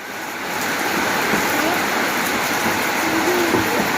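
Rain pouring down during a trip to pick children up from school, a dense, steady roar of hiss and rumble that swells in the first half second and then holds close and loud.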